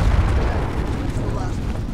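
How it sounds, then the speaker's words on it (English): A Javelin missile launcher in Modern Warfare Remastered fires and its warhead detonates, a dense, loud rumbling boom that fills the whole moment with sustained low roar. "I love the sound of the remastered javelin so much"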